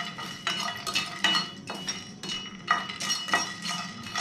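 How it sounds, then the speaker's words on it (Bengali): Whole star anise and nutmeg stirred in a dry pan for Kolkata biryani masala, giving repeated bright scraping and clinking bursts of a utensil against the pan, close and moderately loud, with no talking. "এবার স্টার এনিসটা দেব, জায়ফল দেব, দিয়ে কিছুক্ষণ হালকা হাতে নেড়ে দেব।"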